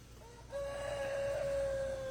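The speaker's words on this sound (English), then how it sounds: "He's trying to crow." A young rooster on a small woodland farm attempts a crow: after a short pause a thin, strained, sustained call rises and holds for well over a second, close and fairly clear.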